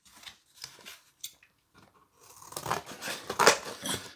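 Close snipping and crunching of scissors cutting pieces of scrap material for a scratch-built Warhammer 40,000 Ork bunker model, a few sparse cuts at first, then denser, louder crinkly cutting.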